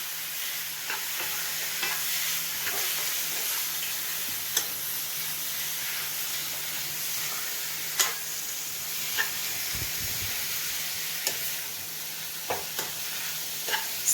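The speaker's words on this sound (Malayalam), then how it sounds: "ഇനി നന്നായിട്ട് നമുക്ക് അങ്ങോട്ട് മിക്സ് ചെയ്ത് ഇളക്കി പെരട്ടി കൊടുക്കാം" Cleaned squid with onion and masala stirred in a frying pan for a squid roast, a steady bright sizzle broken by regular spoon scrapes and clacks against the pan, close and continuous with no talk.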